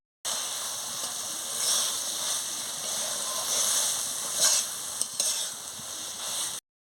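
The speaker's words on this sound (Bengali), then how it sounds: "এইভাবে আমি ভালো করে কষিয়ে নিচ্ছি" Chichini greens chorchori being stirred and sautéed in a hot pan, a steady close sizzle with scraping stir strokes and a few sharper clinks of the utensil against the pan.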